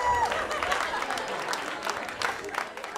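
Steady applause from an audience, a dense patter of clapping that holds at a fairly even level for a few seconds.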